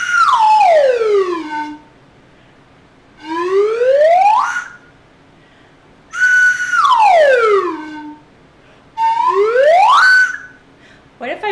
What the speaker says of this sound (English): see if you can follow along when I play on the slide whistle